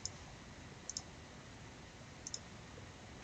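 Mouse clicks on line end points during AutoCAD drafting: a few sharp, quiet clicks, some in quick pairs, spaced out over faint room noise.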